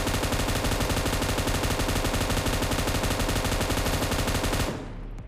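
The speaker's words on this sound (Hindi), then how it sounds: "मशीन गन है मेरे पास" Relentless rapid machine gun fire in the video game PUBG blasts continuously for several seconds, loud and dense, then cuts off abruptly into a brief fading tail.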